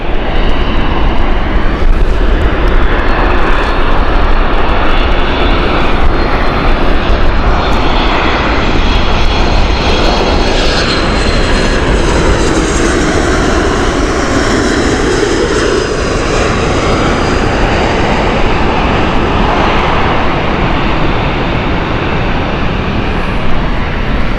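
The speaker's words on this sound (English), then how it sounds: "Norwegian from Copenhagen, 737 MAX here." A Norwegian Boeing 737 MAX from Copenhagen lands at Gatwick, its jet engines roaring loud and close in a continuous rush that sweeps in pitch as it passes.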